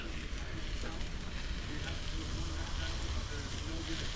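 Mushrooms and onions frying in oil on a flat-top griddle give off a steady, dense sizzle with crackles and pops, fairly close and continuous throughout.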